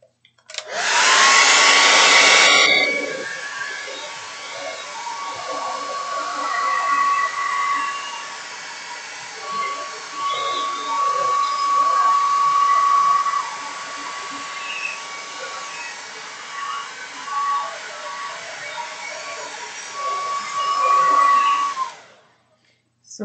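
A hair dryer blows on wet orange paint, a loud steady whooshing drone that starts strongest, settles slightly lower with small fluctuations, and runs nearly twenty seconds before cutting off.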